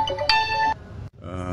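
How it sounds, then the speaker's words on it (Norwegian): A mobile phone plays a loud ringtone up close: bright, steady electronic tones that stop abruptly. After a brief silence another tone sounds. "jeg må bare legge på en telefon her"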